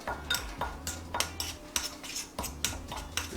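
A spoon mixes semolina, baking powder and cornstarch in a bowl, giving repeated scraping clinks against the dish in an uneven rhythm, close and fairly loud, with no one talking.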